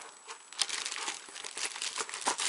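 A keyboard is pulled from its cardboard box and plastic packaging, giving close, continuous crinkling and rustling with a few sharper crackles, fairly quiet and without talk.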